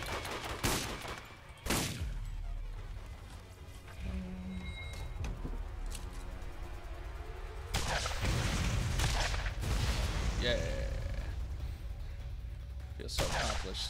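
Shotgun blasts in the video game Borderlands, several heavy booming shots spaced irregularly over a busy game background, with a player talking in places.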